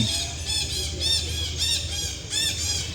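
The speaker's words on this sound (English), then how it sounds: "you can hear the birds around here" Birds squawk repeatedly at Angkor Wat, their shrill, harmonic calls coming in uneven bursts close by over a steady outdoor background.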